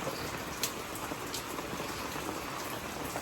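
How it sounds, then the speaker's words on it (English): Heavy rain pours down steadily during a tropical storm, an even hiss of drops on surfaces with no talking. "It's pouring outside."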